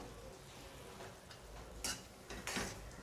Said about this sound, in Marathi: आता ह्यामध्ये आपण हे परतून घेऊया